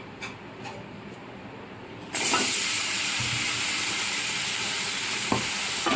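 Okra halves sizzle and hiss steadily in hot oil in a pan. Quiet stirring comes first, then a sudden loud burst of frying that stays loud and constant, with a few scraping stirs.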